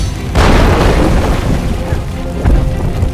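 A booming explosion in the LEGO Marvel Super Heroes video game, a loud broadband blast near the start rolling into rumbling debris, followed by a second smaller burst about two seconds later.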